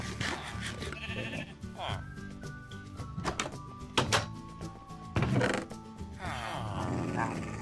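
Sheep bleating in the video game Minecraft, several wavering calls scattered across the stretch among thumps and clicks of gameplay, with someone talking at times.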